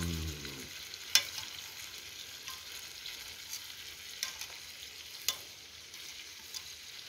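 Food fries in a pan with a soft, continuous sizzle, broken by a few sharp clicks and knocks of the pan being turned or stirred, with no voices.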